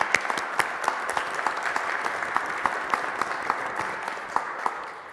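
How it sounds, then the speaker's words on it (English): An audience applauds panelists at an event on sustenance and justice, sustained clapping from a room full of people that is fairly close and steady, tapering slightly toward the end. "Can we please give them all a round of applause?"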